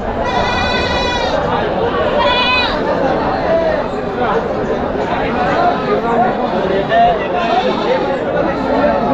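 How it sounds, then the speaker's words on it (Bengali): Baby goats bleat at a wholesale goat market, with a few high, wavering cries standing out over steady crowd chatter and someone talking close by. "বাচ্চা ছাগলগুলো দেখেন।"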